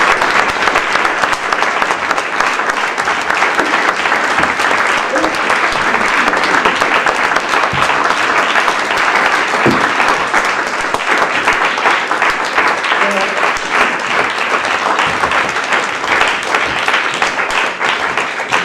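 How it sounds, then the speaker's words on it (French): Long, loud, sustained applause from a theatre audience honouring the playwright after an amateur troupe's performance of the play Elle, a dense, even wash of clapping with no break. "que je voulais applaudir"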